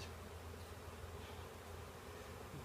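Honeybees from a package being installed into a hive hum in a faint, steady, continuous buzz close by, with no voices present.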